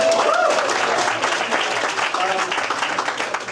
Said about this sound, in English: Round of applause for Glitch City for putting this on